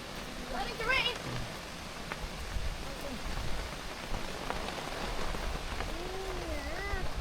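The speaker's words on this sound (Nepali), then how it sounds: "पानी परेको आवाज सुन्नु पाउँदाखेरि" Rain falls steadily as an even hiss with scattered drops, while birds chirp faintly in the background and a voice speaks briefly.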